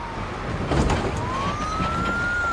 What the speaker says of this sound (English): A school bus getting pulled over by a police car.